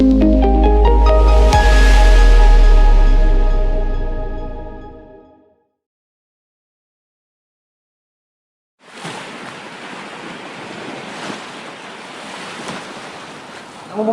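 Ocean waves surging at sea, a steady broadband wash of surf and wind that comes in alone after a stretch of music fades out and a brief silence.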